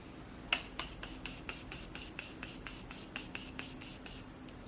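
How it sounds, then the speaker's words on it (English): Morphe Continuous Setting Spray is pumped in a quick series of about fifteen short, rhythmic spritzes, close and fairly soft, in a quiet room. "I am going to go ahead and spray some of my Morphe Continuous Setting Spray."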